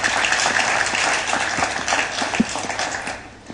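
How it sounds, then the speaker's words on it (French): Audience applause at an evening panel on press freedom in Martinique, a steady broadband patter of many hands clapping close by, holding fairly even and tapering slightly toward the end with no talk over it. "et de les applaudir dès maintenant"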